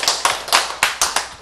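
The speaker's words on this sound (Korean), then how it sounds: "박수." A few loud, separate claps from the audience at a church sermon ring out close by in an uneven rhythm, six sharp hits over a second and a half with no talking.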